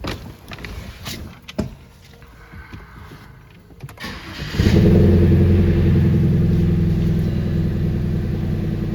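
A BMW 320i engine catches after a few seconds of quieter clatter and then settles into a steady, loud, close idle that drones on to the end, with no one talking.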